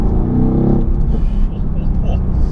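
A 585 bhp Mercedes-AMG GT R sports car drives hard along a British B road, its engine roaring loud and close while a voice talks over it.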